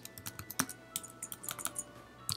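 Quick, light keystrokes on a computer keyboard come in an uneven run of clicks, close and fairly quiet, with no voices.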